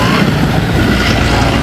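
Loud, steady road traffic on a busy highway near Sartha, heard up close from a scooter as a continuous roar of engines and rushing air with no breaks.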